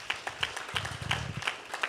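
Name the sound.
audience clapping for teachers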